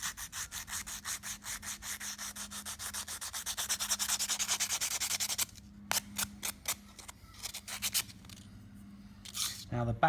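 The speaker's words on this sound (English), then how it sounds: "put the whole piece on the sandpaper and give it a nice workout" A recycled Corian fish hook is rubbed back and forth over sandpaper laid flat on a desk, giving fast rhythmic rasping strokes that grow louder, then break into separate scrapes with short pauses.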